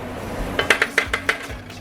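Peppers and onion mix scraped and scooted across a pan with a utensil, giving about six quick clinking knocks in a row, close and fairly loud, with no talking.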